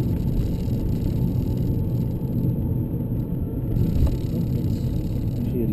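BMW E90 323i car engine droning steadily at close range, a continuous low rumble from inside the cabin as it rolls through a U-turn, with no talk.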